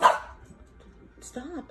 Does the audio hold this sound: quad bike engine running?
no